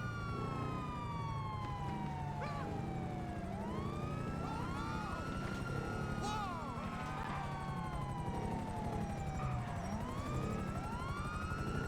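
Wailing police sirens sweep continuously through a GTA V street gang shootout in Los Santos, several sirens rising and falling over a dense rumble of traffic and engines, loud and close throughout.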